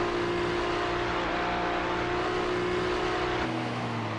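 The Ferrari number 72 GT3 race car runs on the track at Mosport with a loud, steady engine roar that holds a near-constant pitch and then drops off slightly near the end, with no voices.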